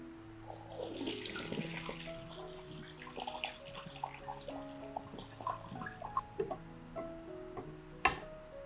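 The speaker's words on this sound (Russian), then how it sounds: "Снимаем с огня и сливаем воду с капусты." Water pours and splashes into a sink as a pot of boiled cabbage is drained, with clinks of metal and a sharp knock near the end.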